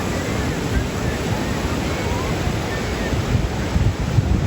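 Ocean surf breaks on a Wildwoods beach after Hurricane Erin, giving a steady, loud roar of waves mixed with heavy wind buffeting the microphone.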